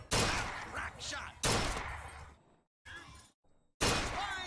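Gunfire at a carnival shooting gallery in BioShock Infinite: loud, cracking shots with breaking and clattering debris, coming in bursts separated by brief silences, with a voice speaking between them.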